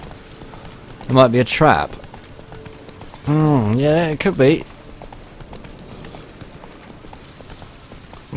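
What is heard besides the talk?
horse hooves galloping in The Witcher 3 video game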